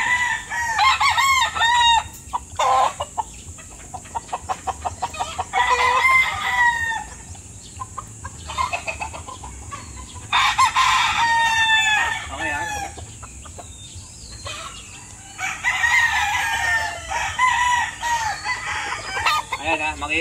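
Gamefowl roosters of the Rubio gold line crow again and again, near and loud, with clucking between the calls and a low farmyard hum running underneath.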